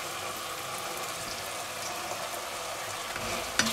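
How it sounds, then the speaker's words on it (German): Onions, garlic and vegetables sear in a hot pan, a steady crackling sizzle for a few seconds with a small clack near the end. "Und das wird jetzt schön angebraten"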